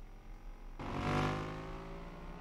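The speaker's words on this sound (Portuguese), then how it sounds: "O ronco das motoquinhas." Motorcycle engines in a racing video game, a faint low drone that swells into a sustained high revving roar, holding steady with no talk over it.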